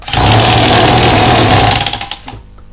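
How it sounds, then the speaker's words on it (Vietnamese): A Makita rotary hammer drill chisels in a loud, continuous dense rattling roar up close, then winds down and fades near the end. "vừa đục vừa khoan Makita"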